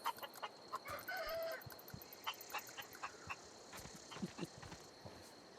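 Chickens clucking as ambient sound in the sci-fi video game The Outer Worlds, a string of short, moderately loud clucks and squawks scattered across the clip, with one longer rooster-like call early on over faint background noise.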